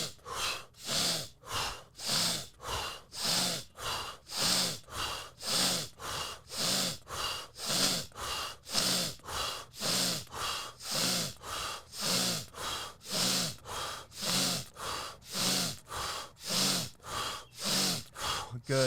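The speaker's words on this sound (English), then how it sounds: "deep inhale through the nose, out through the mouth for 20 seconds." Deep, rhythmic breathing, each inhale drawn through the nose and each exhale pushed out through the mouth, repeating at a quick, steady pace, close and fairly loud with airy rushing breaths and no talking.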